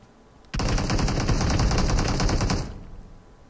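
A single sustained burst of rapid automatic gunfire in a video game shooter, loud and close, lasting about two seconds before trailing off into a faint echo.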